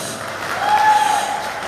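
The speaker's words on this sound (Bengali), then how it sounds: "বড় একটা হাততালি হবে না নায়িকার জন্য?" Audience applause for an actress at a live stage show in Malaysia: a short, steady burst of crowd clapping that swells slightly in the middle and holds without a break.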